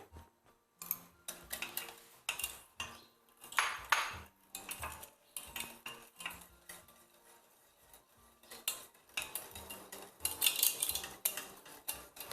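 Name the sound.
stirring cream in a pot with a spoon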